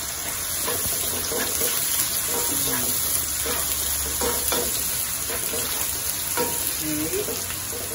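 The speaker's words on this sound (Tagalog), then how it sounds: "Sunog natin ang sibuyas." Onions fry in a pan for pork binagoongan, a loud, steady sizzle with bursts of crackle and stirring scrapes throughout, with faint voices in the background.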